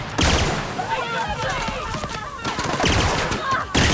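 Rapid, sustained gunfire in The Outer Worlds, overlapping shots rattling in dense bursts with brief gaps, loud and close through most of the stretch, with a voice talking underneath at times.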